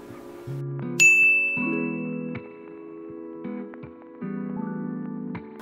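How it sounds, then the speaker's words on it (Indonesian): A phone alarm plays a bright electronic melody of chiming, bell-like tones in short repeated phrases, clear and close with nothing else behind it. "ada dua jenis orang nih ya, yang punya alarm di HP-nya seperti ini dan di seperti ini"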